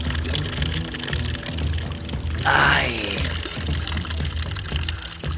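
Drinkable mountain water pouring and splashing on Monte Mendibil near Bilbao, Spain, a steady close gush with a brief swell partway through, under a short exclamation from a man.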